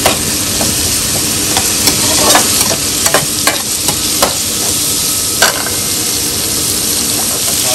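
Chicken frying for chicken manchurian, a loud, close, continuous sizzle with irregular scraping knocks of a utensil stirring in the pan, no talking.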